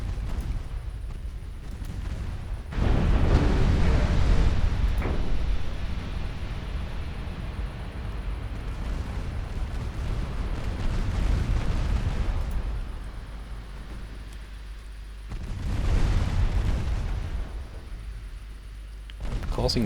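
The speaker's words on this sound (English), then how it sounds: "And the 3-inch guns are doing their job." Rapid 3-inch naval guns boom in Ultimate Admiral Dreadnoughts, a World War era naval battle game, with heavy bursts around three and sixteen seconds over a continuous rumbling battle din.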